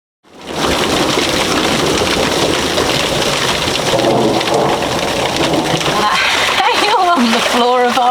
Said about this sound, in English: We are currently experiencing our first thunderstorm in the boat. This is nuts. It's hailing.